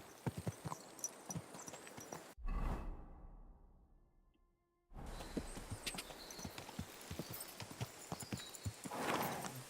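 A horse's hooves clip-clop in a quick steady rhythm, close and clear, cutting out briefly mid-way under a whooshing rush before the hoofbeats resume.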